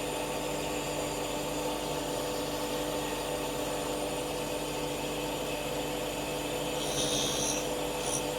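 A carbide cutter grinds the gullets between a saw blade's teeth, giving a steady, continuous high-pitched whir with a faint rasp that holds level throughout, with no talking.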